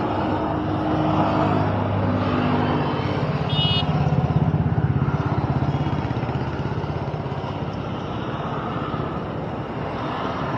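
A Maruti Suzuki Ritz hatchback engine idles steadily at close range, a continuous low rumble with a faint whine, holding a constant level throughout.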